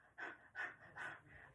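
A voice imitates a dog's panting as a vocal warm-up exercise: four quick, breathy huffs in an even rhythm, close but quiet, with no speech.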